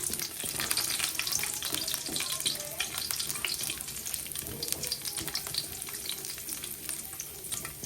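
Ginger slices frying until golden brown in a hot pan, a steady dense sizzle with occasional stirring scrapes, close and continuous with no talk.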